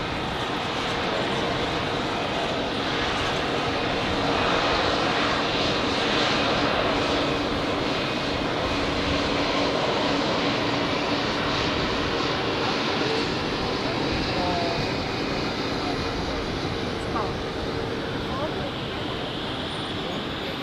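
At Zurich airport during rush hour, aircraft engines keep up a continuous, loud jet roar that swells slightly midway and holds steady for the whole stretch, with no clear voices on top.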